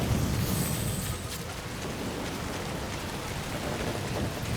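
Steady rain pours down in the video game Death Stranding, a dense, even hiss of drops with low rumbling beneath that holds at a constant level throughout, with no voices.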